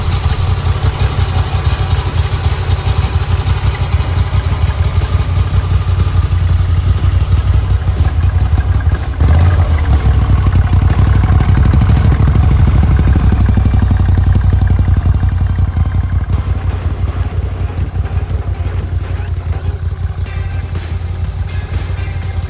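A 2022 Moto Guzzi V85TT motorcycle engine with its stock muffler runs steadily up close, giving a loud, continuous throbbing drone with a faint clatter that barely changes throughout.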